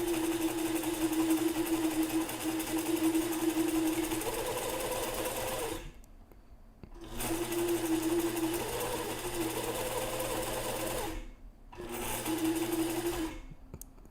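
A sewing machine runs steadily stitching a straight hem down a muslin hat strap, loud and close, in three long bursts separated by brief stops, with no talking.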